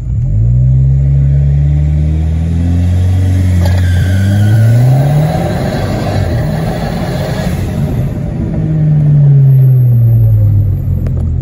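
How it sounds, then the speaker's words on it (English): A car launches in manual mode, its engine revving up loudly and close, climbing through rising pitch, dropping briefly as it shifts, then climbing again in a sustained roar. "I'm gonna press my foot on the gas and I'm gonna let those RPMs go up and I'm gonna let it rip."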